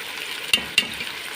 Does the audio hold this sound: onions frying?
yes